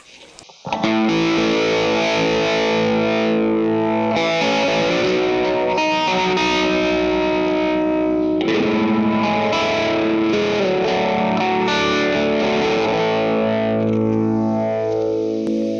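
Distorted electric guitar chords ring out with a shimmering, warbling chorus effect, sustained and fairly loud with some reverb.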